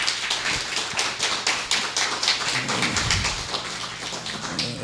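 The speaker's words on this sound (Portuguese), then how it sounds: "Vocês começaram a aplaudir" A church congregation applauds together, a steady patter of many hands at moderate distance, fairly soft and dense, with no talking over it.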